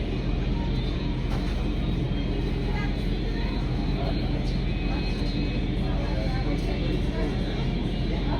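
An airliner rumbles on an airport runway, a broad, steady roar of engine noise that holds at a constant level throughout, with no clear rise or fall.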